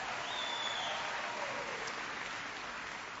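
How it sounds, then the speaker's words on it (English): Town hall meeting audience in Los Angeles breaking into steady, dense applause, many hands clapping together at a moderate distance, filling the whole stretch without a break. "so give her a big round of applause."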